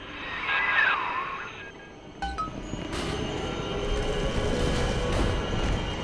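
Train lurches into motion in the underwater city of BioShock 2 Remastered, a sharp metallic clank giving way to a loud, steady mechanical rumble and rolling drone that builds and holds to the end, with no talking.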